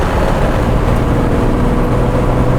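A 1957 Jaguar XK150 FHC engine drones loud and steady from inside the car as it slows for a bend, a dense continuous roar with no voices over it.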